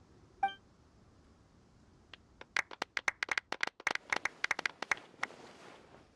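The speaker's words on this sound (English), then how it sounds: "Let's give our champion Kaveh one last big round of applause." Sparse applause from a small crowd at a Genshin Impact award ceremony, scattered claps building after a short chime, fairly close with no talking.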